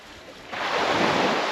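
Ocean surf and wind at Winderabandi Point on Ningaloo beach make a broad, hissing wash that swells louder halfway through and holds steady.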